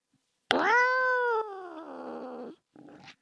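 A house cat meows loudly and close by beside a computer: one long drawn-out wavering call, then a softer short chirp after a brief pause.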